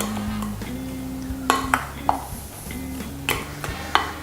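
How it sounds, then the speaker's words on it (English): Bread pudding mixture being mixed in a bowl, with wet squelching strokes and sharp clinks of a spoon against the bowl at irregular intervals, close and fairly loud. "Completely mix it all in."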